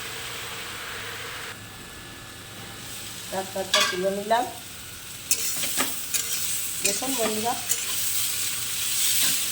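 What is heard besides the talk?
red amaranth greens with carrot frying and being stirred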